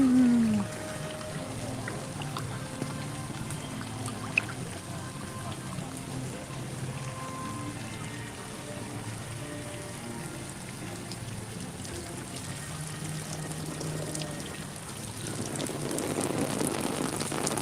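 Water pouring and splashing at Typhoon Lagoon water park, a steady rain-like patter and rush that swells louder near the end, with only faint voices in the background.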